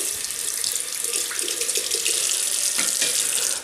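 Tap water runs steadily into a sink while a Merkur Vision DE safety razor is rinsed, a continuous close splashing hiss with small shifts as the razor moves under the stream.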